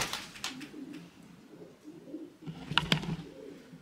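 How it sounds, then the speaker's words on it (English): Pigeons coo softly inside a derelict asylum, a few low throaty calls with scattered wingy rustles and chirps, echoing faintly in the empty building. "And the pigeons."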